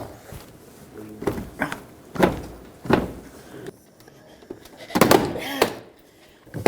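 Several sharp plastic pops and thunks sound up close as a Dodge Grand Caravan front door panel's trim clips release, irregularly spaced, with scraping and handling noise between them.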